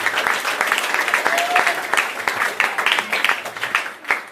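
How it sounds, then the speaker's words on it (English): Audience applause for student singers from St. John's Anglican School at a 2023 graduation ceremony, a steady round of clapping with crowd murmur throughout, fading toward the end. "Can we give them a lustier round of applause?"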